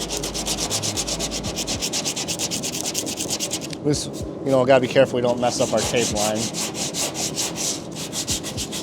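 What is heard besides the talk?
hand sanding car body panel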